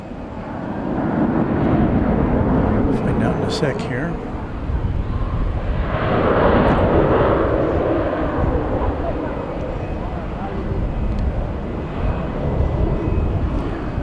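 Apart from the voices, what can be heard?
airplane departing at DFW Airport at night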